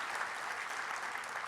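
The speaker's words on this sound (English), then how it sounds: "Can we clap it up just for that?" A conference audience at the 14th Annual CUNY BMI Conference claps steadily, a continuous wash of many hands applauding at moderate distance with no pauses.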